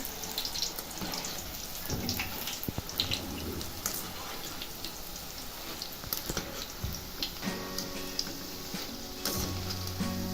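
Boondi made from batter drops fries in hot oil for sweet ladoos, giving a steady, close, crackling sizzle with small bubbling pops throughout, and no talk over it.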